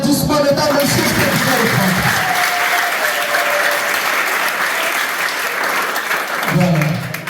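At a girls' reporters club first-anniversary celebration, sustained audience applause rises as singing fades, stays loud and even, then a voice begins speaking over its tail.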